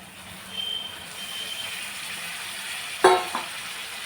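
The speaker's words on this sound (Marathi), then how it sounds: "आता भाज्या घालून घेऊया ज्या आपण वाफवून घेतलेल्या आहेत" Steamed vegetables are stirred into a korma pan, giving a soft frying hiss with scraping spoon movements and a sharp clatter near the end; no one speaks.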